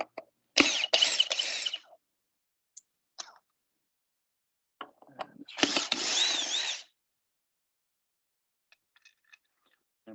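Power driver backing out screws from the bearing assembly of a freeze dryer, two bursts of whirring with a pause between, fairly near, followed by faint clicks and handling noises.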